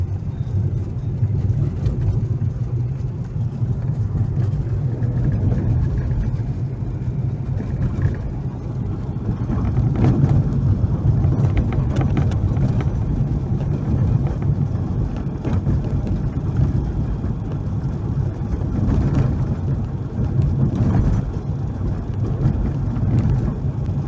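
A car drives along a snow-cleared winter road, heard from inside as a steady low road and engine rumble with gentle swells.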